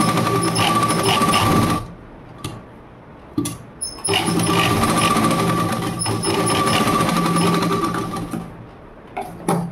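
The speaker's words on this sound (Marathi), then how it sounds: "इथं आपल्याला अर्धा इंचाची शिलाई मारायची आहे, शोल्डर आपण जोडून घेणार आहोत।" Close and loud, an electric sewing machine runs in fast, steady bursts stitching a half-inch shoulder seam on a blouse, stopping briefly between runs with small clicks and handling sounds.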